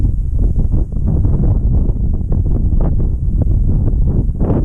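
Wind buffeting a microphone on a river bank, a loud, continuous low rumble with gusty surges and faint rustling, no voices.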